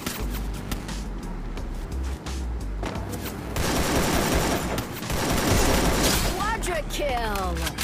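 Rapid gunfire from Free Fire, loud bursts of automatic shots layered with game sounds, while a player talks over the action.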